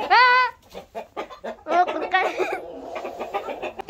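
Farmyard chickens cluck and squawk close by in quick, uneven bursts, one loud drawn-out call at the start followed by busy overlapping clucking.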